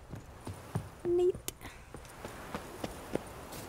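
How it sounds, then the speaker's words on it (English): Horse hooves clip-clop during a horse race in The Witcher 3, a run of light, fairly faint footfalls in steady rhythm under game sounds, with a brief tonal blip partway through. "that must be where I do some more horse racing"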